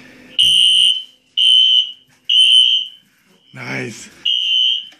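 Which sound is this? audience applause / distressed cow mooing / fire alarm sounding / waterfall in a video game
fire alarm sounding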